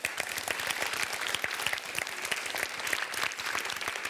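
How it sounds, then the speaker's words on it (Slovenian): A crowd of spectators applauds school teams at a cup-stacking competition. Many hands clap in a dense, continuous patter, faint and steady throughout. "En velik aplavz pa seveda tudi za osnovno šolo Radlje ob Dravi"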